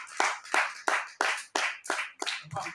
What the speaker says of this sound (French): Au nom de Jésus. Applaudis.